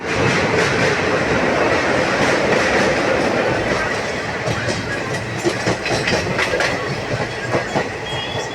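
A train running on rails, its loud, dense rumble and wheel clatter close by, easing slightly partway through with rhythmic clicks continuing.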